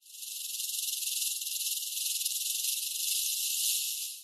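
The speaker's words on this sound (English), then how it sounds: "a distinctive rattle that reverberates throughout the environment" A rattlesnake's tail rattle sounds a steady, continuous high buzzing hiss, unbroken for several seconds at moderate loudness, with no voices.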